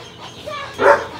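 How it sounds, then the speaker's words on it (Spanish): A dog barks once outdoors, loud and fairly near, after a quieter stretch of faint background sound near a home under construction. "Ya está ladrando"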